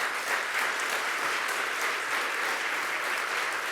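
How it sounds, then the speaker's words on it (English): Steady applause from an audience at a governor's announcement event in Ossining, dense even clapping filling the room at moderate volume with no pauses. "So let's give a round of applause to Marcia Gordon."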